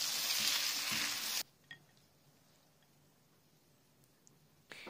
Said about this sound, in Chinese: 放入线椒翻炒，最后加入鸡精翻炒均匀即可出锅。